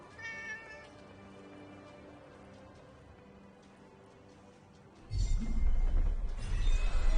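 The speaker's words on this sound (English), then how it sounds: "A cat." A cat meowing in the video game Forspoken, a few faint mews over a quiet ambient game backdrop, followed by a louder rumbling swell of game sound near the end.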